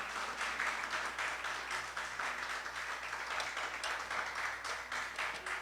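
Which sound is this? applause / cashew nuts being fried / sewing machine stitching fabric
applause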